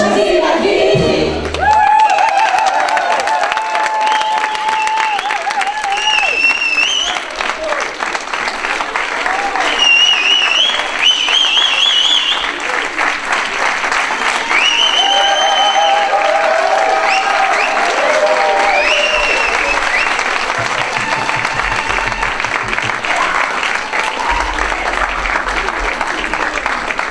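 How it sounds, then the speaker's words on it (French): Audience applause at a private school's end-of-year show, long continuous clapping from a crowd with some cheering, while children's voices and talk carry over the top throughout. "encore des applaudissements"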